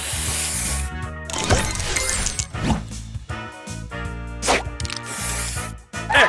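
Spray booster effect from the Match Masters mobile puzzle game, a loud hissing spray burst layered with chiming, sparkling tones and bright game music, continuous and busy with no speech.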